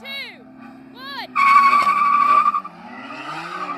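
Race cars with manual six-speed gearboxes launching at a race start, a loud burst of tire squeal and skidding cutting in over engine revs, lasting about a second before easing off, with people talking before and around it.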